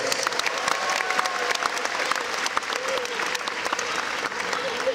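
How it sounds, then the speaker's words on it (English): Audience applause at a Super Dogs show at the CNE, steady dense clapping from a large crowd in a big venue, carrying on evenly for several seconds with occasional cheers mixed in. "one more round of applause for our volunteers"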